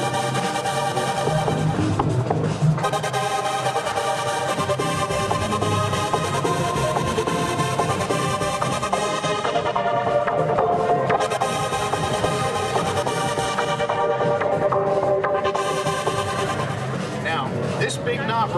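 Korg R3 synthesizer playing two timbres layered at once at a trade show, sustained chordal synth tones with a busy rhythmic low end, continuous and fairly loud with ambient hall noise.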